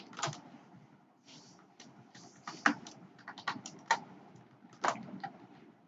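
Quiet, irregular clicks of a computer keyboard as Bootstrap pager HTML code is typed, with scattered keystrokes and short bursts over a low background hiss and no talking.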